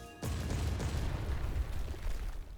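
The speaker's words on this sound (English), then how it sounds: "a series of explosion rips through the distant silence" A loud, sudden burst of blasts from a distance kicks off a sustained rumbling roar of continuous explosions.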